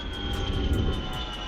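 An airplane flies overhead, a steady, droning engine roar with a high whine on top, fairly loud and continuous throughout the short stretch, with no voices.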